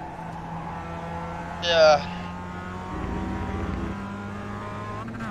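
A Mazda race car engine in the iRacing Global Mazda Cup at Okayama drones steadily with a high, even tone, briefly swelling once. A voice speaks a short word over it.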